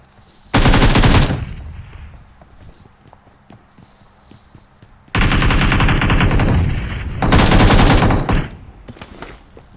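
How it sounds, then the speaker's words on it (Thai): AK rifle fire in PUBG Mobile comes in three loud, close bursts of rapid automatic shots, separated by quieter stretches with faint background clicks. "เล่นเอเคครับปืนมันแรงกว่า"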